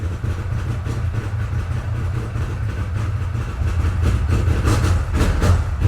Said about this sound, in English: supposedly they've got some kind of hotter cam in it from the factory, which gives it that crazy sound